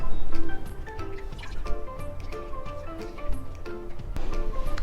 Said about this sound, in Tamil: அதுக்கப்புறம் எடுத்துட்டு லேசாக அந்த மாதிரி தண்ணியை ஸ்குவீஸ் பண்ணுங்கள்.